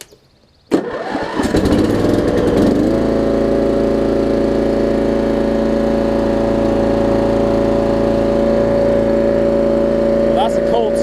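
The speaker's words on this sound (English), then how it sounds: "Let's crank it up." Thirty-year-old Murray riding mower with a Briggs Vanguard engine cranking briefly from cold, then catching and settling into a loud, steady close-up idle drone, with a voice over it.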